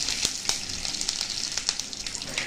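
Cumin seeds and curry leaves fry in a little hot oil in a kadhai, a close, steady sizzle speckled with sharp crackling pops.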